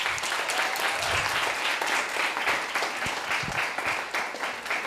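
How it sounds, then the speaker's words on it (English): An audience at an awards ceremony breaks into dense, continuous applause, many hands clapping together at steady volume for several seconds with no pause. "So give a big round of applause."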